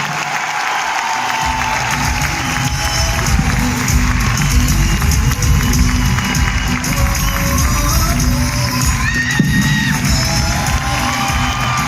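A large audience at a convention hall in Delhi applauds and cheers loudly and continuously, with whoops and shouts over dense clapping for the whole stretch.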